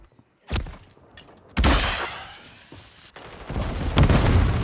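Gunfire and sniper shots ring out in a shooter video game: a few sharp, loud cracks spaced apart, each followed by a trailing boom and echo.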